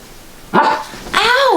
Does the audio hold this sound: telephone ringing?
no